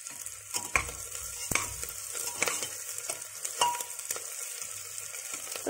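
Ingredients for rice and dal sautéing in a pan, a soft continuous sizzle with occasional sharp clicks and scrapes of a spoon stirring, quiet and close with no voices.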